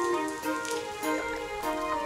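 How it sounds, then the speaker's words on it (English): Heavy rain falls in a children's cartoon as a steady hiss with gentle surges, accompanied by bright, sustained music tones, with no talking. "Oh, the rain has become quite heavy."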